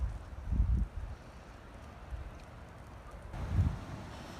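Wind gusts across the coast at Whitstable, buffeting the microphone in two rumbling bursts separated by a quieter stretch of breezy background.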